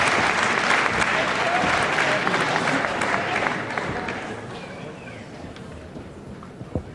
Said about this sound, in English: Just listen to that applause.